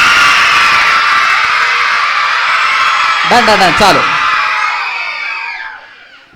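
A crowd of boys at a shouting contest during a church vacation Bible school holds one loud, sustained collective yell, broken briefly by a voice calling out mid-way, before the roar trails off and fades at the end.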